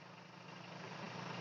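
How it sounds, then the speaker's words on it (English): Air compressor running in a workshop, a steady dull engine-like hum with constant broadband hiss, unbroken and fairly faint throughout the short stretch. "I got my compressor going"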